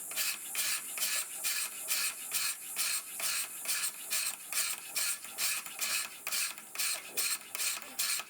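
Steady back-and-forth rasping of hand files on a steel knife blank held in a filing jig: about sixteen even, rhythmic strokes, close and fairly loud, with no talk.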